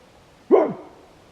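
A man imitates a dog with a single short, loud vocal bark, one sharp woof-like yelp standing alone against near silence.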